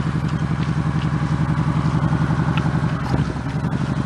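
Motorcycle engine held at steady revs during slow-speed practice, a loud, close, continuous throbbing drone with rattly clatter and no talking.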